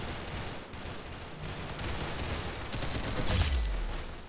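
Gunfire crackles in a shooter video game, a dense run of rapid shots that swells slightly louder toward the end, heard alone without voices.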